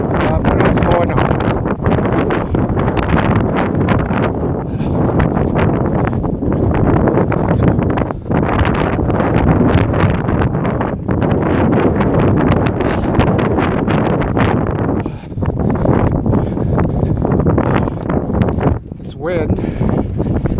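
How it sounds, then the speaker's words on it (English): Cold winter wind roars into the microphone of a jogger outdoors, a loud continuous rumbling buffet that never lets up, with faint speech partly buried underneath. "Wind that's going against me is making it so much harder, and it's so cold"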